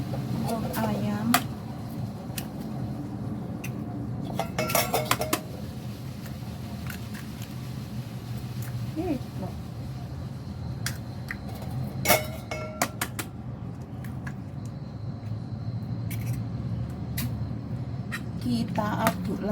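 Mashed tofu mixed with a chicken egg is stirred in a bowl, close scraping with scattered clinks and louder bursts of spoon knocks at intervals, otherwise a faint steady background.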